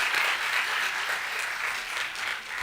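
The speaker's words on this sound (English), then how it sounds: "So let us give a big clap to them." An audience at a university Women's Day celebration gives continuous, moderately quiet applause, heard as an even wash of clapping from start to finish.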